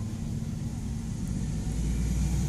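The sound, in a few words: loud truck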